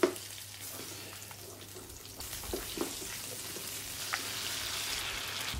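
Onion, carrot, potatoes, chili pepper and tomato fry in olive oil, giving a soft, steady sizzle. A few light clinks and stirring sounds break through it.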